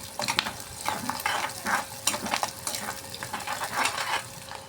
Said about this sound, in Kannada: ಸ್ವಲ್ಪ ಗೋಲ್ಡನ್ ಕಲರ್ ಬರೋವರೆಗೆ ಫ್ರೈ ಮಾಡಬೇಕು ರೀ ಫ್ರೆಂಡ್ಸ್ ರೀ.